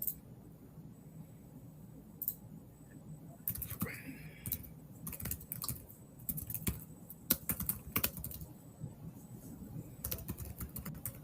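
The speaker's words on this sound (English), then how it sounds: "There's some fast typing right there." Fast typing on a computer keyboard, with bursts of quick clicks that start quiet and grow busier and denser, close and fairly soft against a low background hum.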